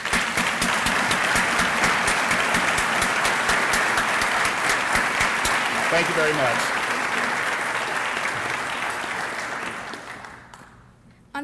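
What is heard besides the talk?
audience applause at breakfast event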